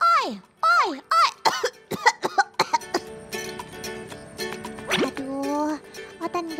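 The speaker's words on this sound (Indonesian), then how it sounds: "Baru coba teriak sedikit, sudah batuk-batuk." Out in the field while herding swamp buffalo, a man gives a few short, loud shouted calls, then breaks into a run of harsh coughs and throat clearing, close and fairly loud with brief quiet gaps.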